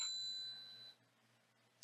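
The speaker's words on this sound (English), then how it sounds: "I need to turn my alerts off on my phone" A phone alert gives a clear bell-like ding that rings out and fades over about a second, with a faint second chime at the end; no one speaks.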